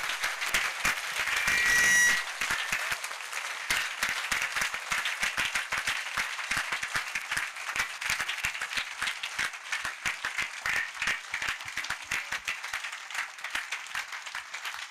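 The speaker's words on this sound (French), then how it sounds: "Clap for Jesus Christ." A church congregation at an outdoor salvation and healing crusade in Bafoussam claps and applauds for Jesus Christ, a loud sustained wash of many hands clapping together, broad and steady throughout with no speech over it.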